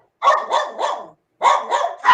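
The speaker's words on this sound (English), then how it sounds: "They're dogs. They're going to do what they're going to do." Dogs barking indoors in two quick bursts of three barks each, close and loud with a short pause between, no talk over them.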